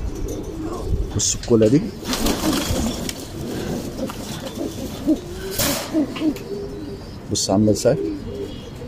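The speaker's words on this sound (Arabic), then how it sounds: "بص بص الحمام مهجر خالص ازاي" Salaka pigeons in a loft being readied for the breeding season give low, rounded coos in two short bursts, near the start and near the end, alongside other bird calls, while someone talks throughout.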